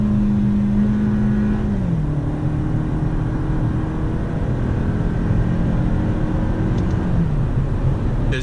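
A 2018 Toyota Camry engine drones loudly from inside the cabin, dropping pitch as it downshifts, then holding a steady revving pull under acceleration with a brief shift near the end; no talking.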